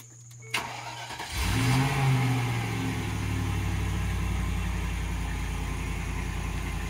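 A 2002 Land Rover Discovery cold-starting in icy weather, a brief cranking whir catching into a loud engine roar that settles into a steady, slightly elevated idle, close and continuous.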